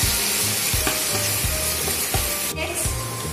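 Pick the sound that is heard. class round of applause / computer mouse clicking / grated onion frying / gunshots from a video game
grated onion frying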